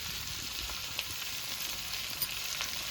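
Ginger-chili paste hits potatoes frying in hot oil, giving a steady, close hiss of sizzling with a few faint pops and clinks, no voices.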